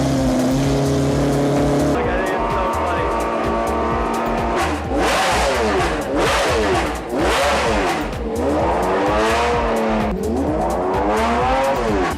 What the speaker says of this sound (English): Now that sounds like an F550.